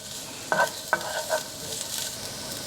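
Garlic sizzling in a hot pan, quiet and close, punctuated by a few sharp scrapes and clicks of stirring at irregular intervals.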